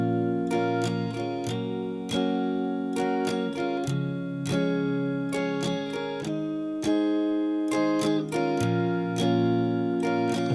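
An acoustic guitar slowly strums the chord progression of a song, with repeated rhythmic down- and up-strokes ringing clearly on their own, the chords changing every couple of seconds.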